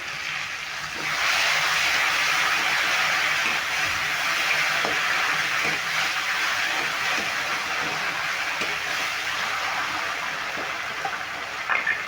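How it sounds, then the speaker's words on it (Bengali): Spice paste frying in a pan over a medium flame, giving a steady close sizzle with soft stirring scrapes that runs on without a break for the whole stretch, no voices. "একদম মিডিয়াম ফ্লেমে মশলাটা কষিয়ে নিতে হবে"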